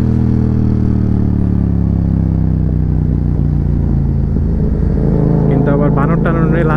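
Motorcycle engine running steadily and loud throughout on a rough hilly road, with a low continuous drone that swells toward the end, while people talk over it.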